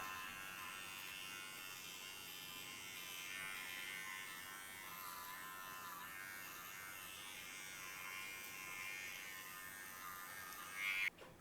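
Electric hair clippers run against the grain through short hair during a textured undercut at a barbershop, a steady close buzzing hum with no talk that ends in a brief clatter.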